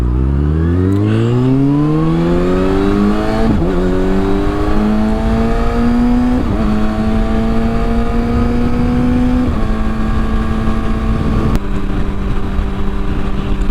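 A motorcycle accelerates and shifts up through several gears, its engine note rising steadily and dropping at each change, heard loud and close from a rider wearing an AGV K6 helmet, with constant wind rush underneath.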